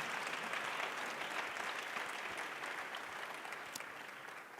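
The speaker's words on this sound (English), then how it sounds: "can you give a really warm round of applause to this fantastic panel of guests?" An audience at a conference in eThekwini applauds a panel of guests, with steady, fairly soft clapping that holds throughout and fades slightly toward the end.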